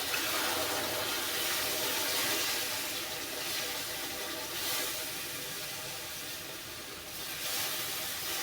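Hot milk pours into a pan of roasted semolina for soft, grainy sheera, giving a steady loud hissing, steaming rush that holds through the whole stretch with slight swells and no talking.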